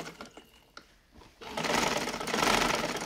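Sewing machine stitching lace onto the slit of a kurti, with quiet handling noises first, then a steady, loud whirring run of stitching for the last half of the clip.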